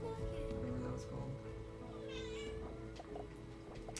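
A pet cat meows a few times, brief mewing calls rising over a fairly quiet room while a person talks throughout.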